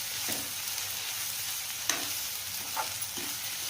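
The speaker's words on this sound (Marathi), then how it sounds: "ते चमच्याने हलवत राहायचं" Onion and coconut sizzle steadily in a pan while a spoon scrapes and clinks against the pan a few times as it is stirred.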